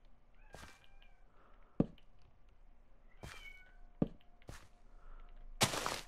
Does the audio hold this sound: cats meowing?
yes